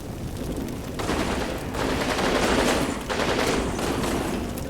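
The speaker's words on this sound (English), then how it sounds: "Yep, enemy machine gun." Sustained bursts of machine gun fire from enemy positions in the WWII Normandy strategy game Combat Mission Normandy, loud and dense rattling volleys in three or four rapid waves with no talk over them.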